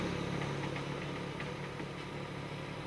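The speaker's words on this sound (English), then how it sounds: "Many visitors go by famous tuk-tuk." A tuk-tuk engine idling near Angkor Wat, a faint, steady low rumble with a slight knocking vibration, heard at a distance amid ambient noise.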